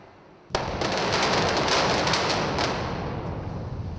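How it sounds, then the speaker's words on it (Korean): Tunnel blasting with timed charges at a Singapore subway construction site, a sudden loud burst that rolls into a dense, rumbling crackle of staggered detonations lasting several seconds, close and without speech. "발파 진행합니다. 둘, 하나, 발파."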